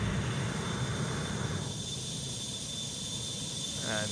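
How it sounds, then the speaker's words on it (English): Steady broadband roar of MD-83 airliner engines at cruise in a flight simulator game, a continuous even hum with a high whine, fairly quiet and alone. "The airplane is now in cruise."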